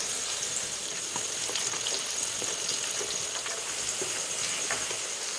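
Potato pieces fry in hot oil with a constant close hiss and sizzle, dotted with small crackles and pops, at an even level throughout.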